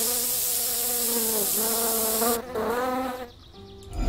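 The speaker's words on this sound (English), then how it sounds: "let's deal with the wasps over here at the play area" Wasps buzz in the video game Maze: Subject 360 with a loud, close, steady droning whine whose pitch wavers before it cuts away near the end.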